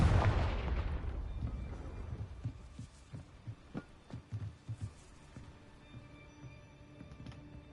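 In Hogwarts Legacy, the Confringo spell goes off with a heavy, booming blast that decays over about a second, followed by a series of dull rhythmic thuds that fade out.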